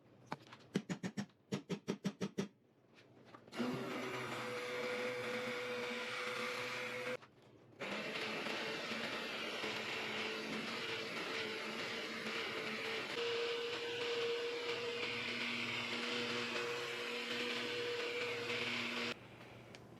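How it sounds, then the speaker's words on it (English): Immersion blender puréeing raspberries for jam, a few short stuttering pulses and then a long steady whirring run with a brief pause partway through, close and fairly loud with no talk. "I'm going to speed up this process by getting out the immersion blender and blending these up"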